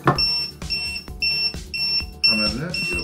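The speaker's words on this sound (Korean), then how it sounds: "이렇게 인원 쓰러짐 알람으로 경보를 발생을 시킵니다" A WANDI Gastiger2000 portable multi-gas detector sounds its man-down alarm: a steady series of sharp, loud repeating beeps close by, with someone talking over part of it.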